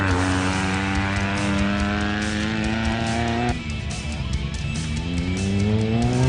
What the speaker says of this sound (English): Charmaine van Aswegen and Carleen Crowshaw, powering off in their Class E bakkie